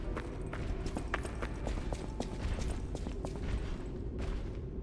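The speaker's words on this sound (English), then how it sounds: "I can hear someone stomping around." Heavy stomping footsteps in the video game Lies of P, inside an opera house: a steady run of dull thuds and clip-clop-like impacts over a dense, continuous background rumble, with no talking.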